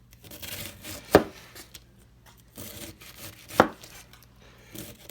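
A knife slices through cabbage for sauerkraut in sharp, crisp cuts, two strong strokes standing out among softer scraping passes, close and clear with no talking.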